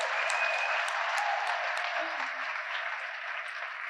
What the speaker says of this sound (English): Can we please have another round of applause for our senior project students?